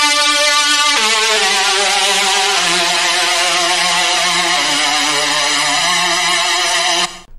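Sustained synth chords played without an arpeggiator, a loud, bright, buzzy tone holding steady and shifting to a new chord roughly every second or two until it cuts off near the end.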